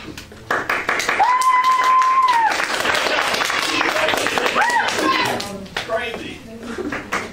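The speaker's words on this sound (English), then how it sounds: "indicate with applause if you think they committed the crime" Teenage audience applauding to vote on a suspect at a murder mystery game, bursts of clapping mixed with whoops and cheering voices.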